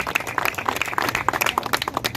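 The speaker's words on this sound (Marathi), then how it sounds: "खरोखरच दादांसाठी टाळ्या वाजवा" Audience at a local over-40 cricket tournament event clapping for an honoured elder, a brief burst of dense, close applause from a small crowd.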